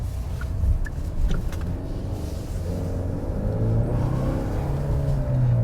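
A 2021 Genesis G80 sedan with a 2.5-liter turbocharged four-cylinder engine accelerates, giving a quiet, low engine rumble with tyre and road noise that rises gently as speed builds.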